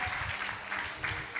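Audience applause at a church healing service, a steady wash of clapping from a crowd that sounds moderately distant and fairly soft throughout.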